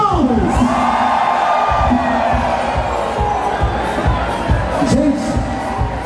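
A dense crowd at an Oktoberfest show with a live band roars, whoops and yells in a sustained, loud wall of voices, with occasional claps and individual shouts standing out.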